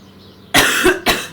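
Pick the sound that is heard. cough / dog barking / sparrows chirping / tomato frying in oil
cough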